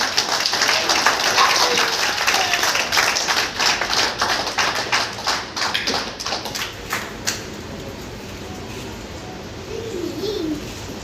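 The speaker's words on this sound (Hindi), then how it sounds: "जोरदार तालियां उनके लिए।" Audience claps for author Dr. Aruna Gupta at a book launch in Agra, a thick burst of applause that thins into scattered taps and fades over about eight seconds, with a pigeon cooing faintly near the end.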